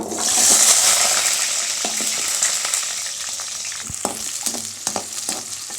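Steady, loud sizzling hiss of whole onions frying in hot oil with fenugreek seeds, with occasional clicks and stirring sounds toward the end.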